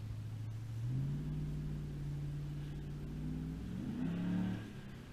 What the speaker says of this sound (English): the sound of this truck is intoxicating. I mean, it's just a phenomenal sounding truck.